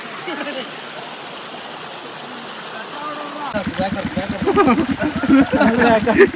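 Water rushes through a channel near a Mullaperiyar dam shutter with a steady, broad hiss throughout; partway through, voices start speaking loudly over it.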